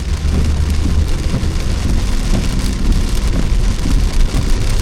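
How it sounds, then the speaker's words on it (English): Heavy Central Florida rain drumming on a parked car, a dense, loud, continuous patter against the body and windows with deep low rumbles beneath, no one speaking. "now it's raining really bad"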